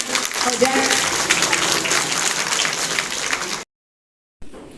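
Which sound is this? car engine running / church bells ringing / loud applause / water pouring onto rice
loud applause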